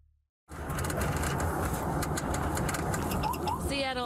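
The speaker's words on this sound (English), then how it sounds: "The roar of his engine heard on his body camera." Police car engine roaring as it accelerates, captured on an officer's body camera, a loud sustained rumble that begins abruptly after a brief silence, with faint chirps near the end.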